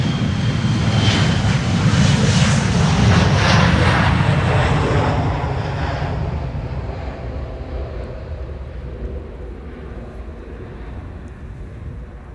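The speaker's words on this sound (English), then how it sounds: "Embraer 175 in the foreground" An Embraer 175 airliner departing Schiphol's Polderbaan runway roars with broad jet engine noise, loud at first and then slowly fading as it climbs away into the distance.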